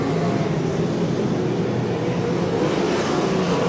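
A field of sprint race cars roars down the front straightaway at Ocean Speedway, a dense, continuous engine roar at steady loudness with no talk.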